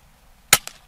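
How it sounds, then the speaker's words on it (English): A single sharp crack from an Umarex Notos .22 regulated PCP air-rifle micro-carbine, followed by a quieter short knock from the pellet hitting the target, close and otherwise quiet. "Next bull. 5 shots."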